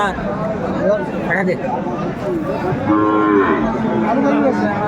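Sahiwal cross cattle at a busy Dinajpur livestock market moo repeatedly, with several drawn-out calls rising over steady crowd chatter and nearby talk.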